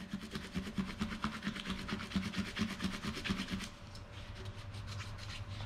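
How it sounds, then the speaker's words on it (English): A Scotch-Brite pad scrubs back and forth on a whitewall tire to lift blue staining, a fast steady rasping rub that runs for several seconds and then gives way to a quieter low hum. "Maybe we'll try a little Scotch-Brite here."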